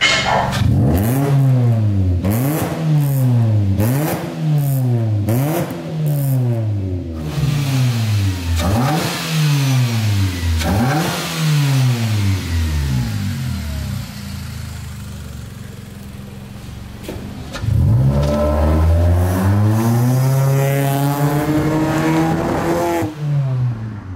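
A Mitsubishi Lancer EX fitted with an aftermarket air intake, headers and exhaust, revved repeatedly in quick rhythmic blips, then one longer loud rev that falls back to idle before climbing again, close and alone.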